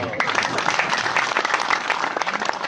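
A crowd at a Hindu religious discourse (pravachan) claps together in a dense, steady burst of applause that carries on throughout, loud and close, without speech.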